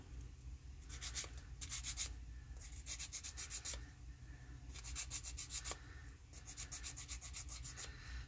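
A paper craft charm being sanded by hand, giving bursts of quick, soft scratchy rubbing strokes in three separate bouts with short pauses between, faint and close, no speech.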